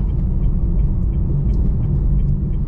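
A manual car's engine drones low and steady from inside the cabin while the driver shifts down from fourth to third gear, a continuous rumble with no voices over it.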